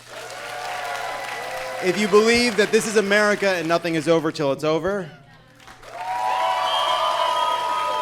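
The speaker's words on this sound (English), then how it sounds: "please applaud." An audience applauds at a political talk, a broad wash of clapping heard at the start and again at the end, with someone speaking loudly over the middle while it drops away.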